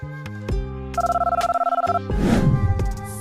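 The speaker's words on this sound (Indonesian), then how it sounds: "Suatu malam, Emily mendapat telepon" A telephone rings with a trilling electronic tone amid bright musical notes, loud and close, with no talking.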